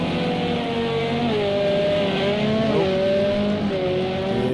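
A race car in Project CARS 2 during an endurance league race at the Nürburgring passes close by, its engine note rising then dropping as it goes past under another steady engine drone.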